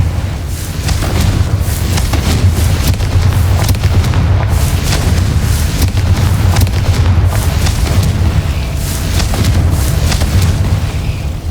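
Confringo fire spell explosions in the Hogwarts Legacy video game, a sustained dense barrage of booming blasts and crackling bursts with heavy low rumble, loud throughout.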